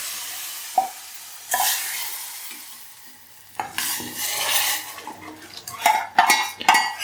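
A sizzling tempering goes into a bubbling black-eyed pea curry and is stirred with a metal spoon, giving a burst of frying hiss, then scraping and clanking against the pot at close range.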